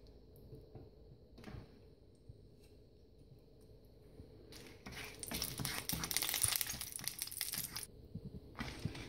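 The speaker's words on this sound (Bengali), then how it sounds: "5টা শুকনা মরিচ ভেজে নিব।" Five dried red chilies sizzling in a spoonful of hot soybean oil in a kadai, a soft crackle that swells into a louder, dense frying hiss partway through.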